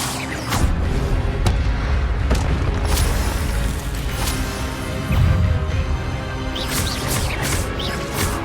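Expelliarmus spell cast in Hogwarts Legacy, heard as dense booming impacts and crashing bursts over a continuous rumbling game soundscape, loud and close.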